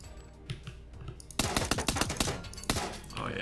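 Silenced pistol shots in the video game Transience come as a dense run of sharp, muffled clicking reports in quick succession, starting after a quieter lead-in and sounding close and crisp.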